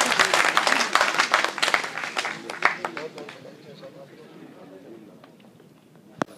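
An audience gathered to welcome successful IAS candidates applauds, dense clapping that is loud at first and then thins and fades to scattered claps, with a single sharp clap near the end.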